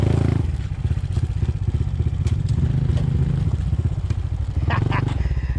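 A Honda CT 125 motorcycle on the move gives a loud, close, steady engine drone with a fast regular firing pulse. Wind and some clattering sit over it, and a brief voice comes through near the end.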